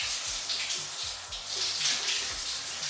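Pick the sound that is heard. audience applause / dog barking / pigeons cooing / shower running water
shower running water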